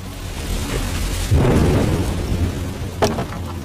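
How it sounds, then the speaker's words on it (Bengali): Heavy rain pours down on a raft out at sea, a dense continuous wash with a deep rolling rumble swelling in the middle and a sharp crack near the end. "অনেকক্ষণ ধরেই এই বৃষ্টি পড়ছে, খুব ঠান্ডা পড়েছে।"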